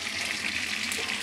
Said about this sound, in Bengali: মাছগুলোকে ভেজে তারপরে পেঁয়াজ কাঁচামরিচ ভেজে মশলা দিয়ে